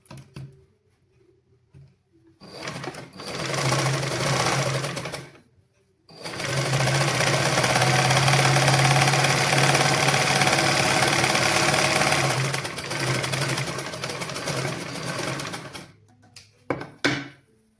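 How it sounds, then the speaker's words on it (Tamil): A sewing machine stitches fabric close by in a short burst, pauses briefly, then runs in a long steady whirring rattle before stopping with a few clicks. "நாங்கள் இனி வந்து தைச்சு பார்க்கலாம்"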